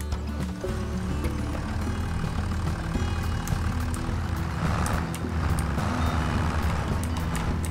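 A John Deere 3650 tractor in Farming Simulator 25 runs with a dense, steady engine drone, near and continuous, with high beeping layered on top throughout.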